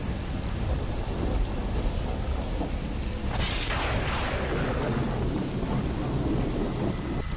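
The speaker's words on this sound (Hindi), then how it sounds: "सिर्फ बारिश का पानी और बिजली की कड़कड़ाहट थी और एक ठंडी हवा।" Heavy rain pours steadily outdoors during a thunderstorm, with a loud thunderclap breaking in partway through and rumbling away beneath the continuous downpour.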